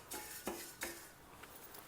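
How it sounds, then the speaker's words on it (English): Horse gram (kulti) being dry roasted in a pan, with a few quiet clinks of a spoon against the metal and soft scraping as the seeds are stirred. "Dry roast this also."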